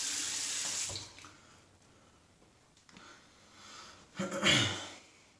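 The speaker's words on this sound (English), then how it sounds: "Wash the hands off here." Tap water runs into a sink while hands are washed after a shave: a soft, steady hiss that fades, then returns with louder splashing near the end.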